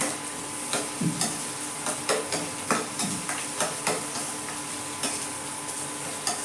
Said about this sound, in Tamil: சரி இப்போ வெங்காயம் நல்லா வதங்கிடுச்சு